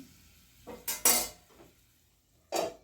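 A lid being placed on a cooking pot while making Chettinad mushroom gravy, a few close metallic clinks and a clatter, followed by another clink after a short pause.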